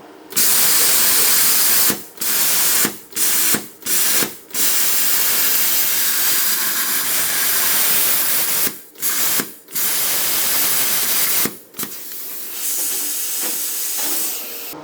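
Plasma cutter slicing through perforated galvanised plate, a loud steady hiss broken by several sharp gaps where the arc cuts out crossing the holes, then resuming.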